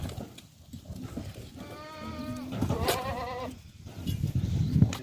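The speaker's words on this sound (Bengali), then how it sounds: "এই মাছরি জাত, ছাগলের জাত হচ্ছে মাছরি" Machhri breed goats on a farm in Kuwait bleat in a few clear, wavering calls against a faint background of rustling and movement, with no voices.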